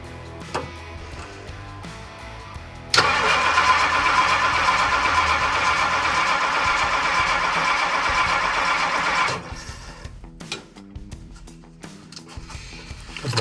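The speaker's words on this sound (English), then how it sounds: "going to jump for the starter solenoid and we're gonna see if this thing will run or not" A 1964 Ford Galaxie 500 V8 with a newly replaced carburetor cranks steadily on its starter for about six seconds, a loud even churning that stops abruptly without catching, with quiet workshop noise before and after.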